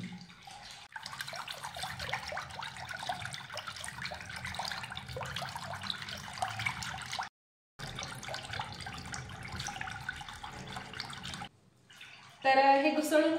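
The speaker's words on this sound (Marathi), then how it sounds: "हे छान घुसळून ह्याचं ताक करून घ्यायचं। तर यामध्ये मी माठातलं थंडगार पाणी घातलेलं आहे।" Buttermilk is churned with chilled water from a clay pot, giving a continuous swishing, sloshing liquid sound, broken by two brief pauses, then ending in a sudden louder burst of different sound.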